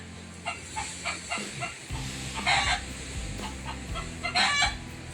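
A chicken clucks in short repeated bursts and lets out crowing calls, fairly close and clear over a steady hiss of background noise during a night outing in the Philippines.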